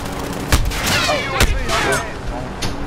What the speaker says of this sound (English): I'm getting shot by everybody, that's why